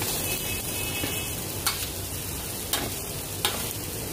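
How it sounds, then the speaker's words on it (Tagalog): Lamb curry being stirred in a sizzling pan, a continuous close frying hiss with a few soft scrapes of the spoon against the pan. "Hayaan mo lang siyang haluin para mag-mix yung mga ingredients dun sa lamb."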